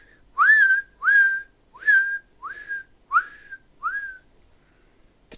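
A person whistles loudly six times, alone and close by. Each whistle is a short upward-sliding note with even pauses between them, and there is no speech.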